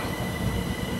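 A train at London Bridge station rumbles past with a steady, close, heavy roar of wheels and carriages, full and unbroken for a brief moment.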